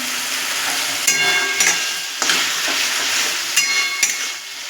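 Spice paste for a mixed fish curry with potato, onion and eggplant sizzles and hisses steadily in a pan, with a few sharp scrapes and knocks as it is stirred; no voices.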